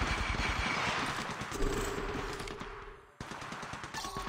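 Gunfire in the mobile video game Apex Legends Mobile: rapid automatic bursts rattle loudly and continuously, with a brief drop in the middle before the shooting resumes.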